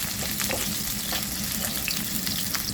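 Garlic, onion and ginger sauté in a hot pan with a close, continuous sizzle and occasional stirring scrapes, no voices.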